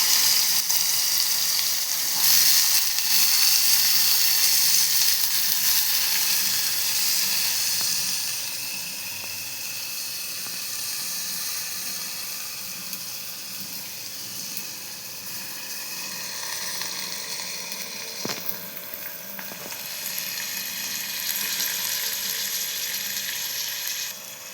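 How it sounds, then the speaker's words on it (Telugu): Onions fry in hot oil with mustard seeds and dried red chilies for a drumstick and peas tomato curry, giving a loud, bright, continuous sizzle that eases somewhat after the first stretch and then holds steady, with no talking. "ఆవాలు, ఎండుమిర్చి, ఇప్పుడు ఇందులో ఆనియన్స్ వేసేసేయాలి."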